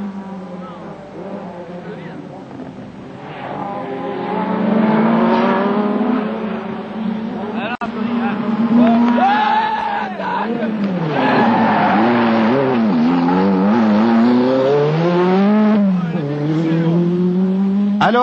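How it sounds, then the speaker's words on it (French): A Renault 5 Turbo rally car races on a Tour de Corse 1980 stage, its engine loud and close, the revs rising and falling in long sweeping waves through gear changes. "La R5 multiplie les temps scratch et accroît son avance à chaque mise en marche du turbo que l'on voit très bien ici."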